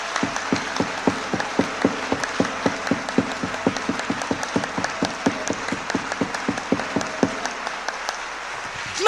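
A church congregation claps in a fast, regular rhythm during worship. The crisp claps are mid-distance and evenly spaced, and they keep going for several seconds before fading out near the end.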